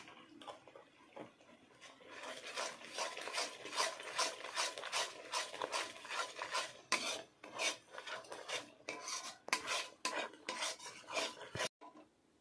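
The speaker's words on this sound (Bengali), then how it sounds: "এইভাবে ক্রমাগত নাড়তে হবে।" Peanut barfi mixture with ghee stirred continuously in a pan, rhythmic rasping scrapes of the spoon against the metal repeating steadily for several seconds, close and fairly loud, with a few louder knocks.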